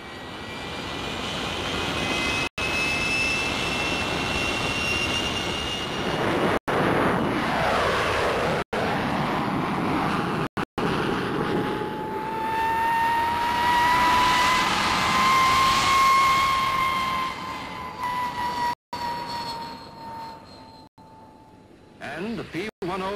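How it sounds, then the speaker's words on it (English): A P-1067 jet fighter flies past, its engine roar swelling and fading with a rising and falling whine, heard under a narrator's voice in an old film soundtrack. "P-1067, the fastest fighter flying today."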